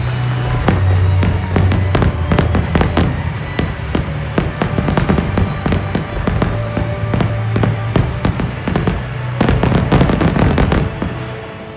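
Fireworks at an outdoor inauguration ceremony in Virginia, a rapid, continuous barrage of loud cracks and pops with booming low bursts throughout, no voices.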